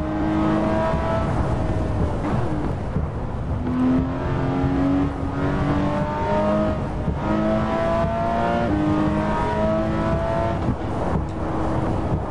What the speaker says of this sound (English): The car sounds alright. I don't hate the sound.